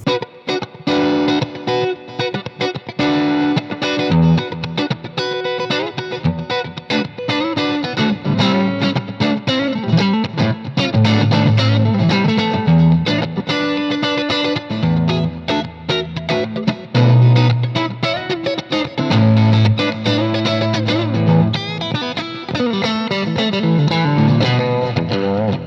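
A 1961 Fender Stratocaster electric guitar plays continuously with a driven, effects-laden tone, dense sustained chords and notes ringing loud and steady throughout.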